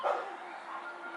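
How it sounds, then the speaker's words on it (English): A dog yelps once near the start, then faint, muffled barking and whining continue in the background. "I'm sorry if you guys hear those barking dogs."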